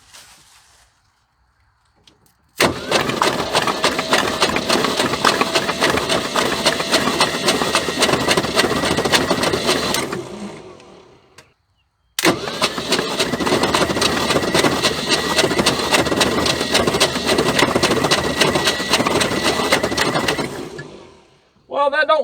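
An abandoned 1976 Ford F150 cranks over twice in long bursts, each a loud, rough, uneven churning lasting several seconds before cutting out, with a short pause between attempts.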